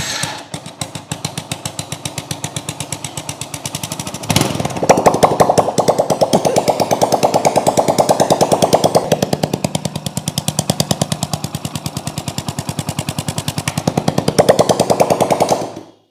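A small engine with a recurring noise fault runs with a cloth held over the silencer exhaust, giving a loud, close, rapid pulsing chug that swells and grows rougher partway through, then cuts off abruptly at the end.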